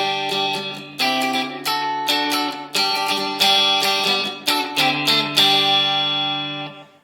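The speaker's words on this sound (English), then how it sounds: "the main riff for the electric guitar sounds like this" Electric guitar playing the main riff of a song, bright chords struck in a steady rhythmic pattern of repeated strums with ringing sustain, loud and close, fading out at the end.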